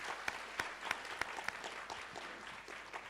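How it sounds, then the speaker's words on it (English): Audience applause for four contributors on stage at an AI panel discussion, a steady wash of clapping with a few sharper claps standing out, moderately distant and fairly quiet, with no talk over it. "big round of applause for the 4 contributors today on the stage"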